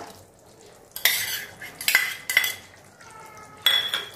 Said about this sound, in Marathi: व्यवस्थित हे सर्व मिक्स करून घेऊया।